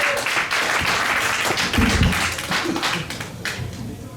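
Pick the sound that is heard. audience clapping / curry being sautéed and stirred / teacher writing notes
audience clapping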